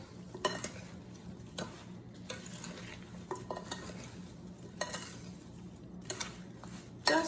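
A spoon stirs a tapioca, sugar and salt mixture into strawberries and rhubarb in a bowl, with irregular close clinks and scrapes spaced a second or so apart over a quiet background.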